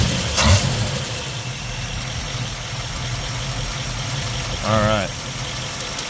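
The engine of a 1951 Mercury idles steadily after a carburetor swap, a low, even rumble close by, with a brief louder swell near the end and someone talking briefly over it.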